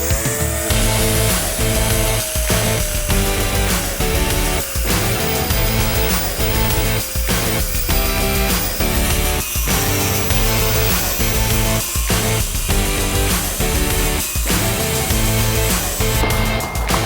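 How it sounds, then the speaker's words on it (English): Angle grinder cutting off a rusty running board bracket on a 2010 Range Rover L322, a loud continuous gritty whine with rough chattering bursts throughout. "We decided we're just gonna grind off the main bracket"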